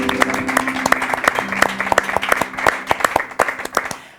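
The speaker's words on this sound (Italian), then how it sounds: "facciamogli un applauso" Applause from a small audience at an Italian singing contest results announcement, distinct individual claps ringing out in an uneven patter over a low hum, moderately loud and close, with no voices on top.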